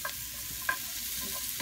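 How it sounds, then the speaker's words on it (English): Onions frying in a hot skillet, a close, steady hiss of sizzling broken by a few brief stirring scrapes, heard alone. "I'm gonna grill these onions right quick"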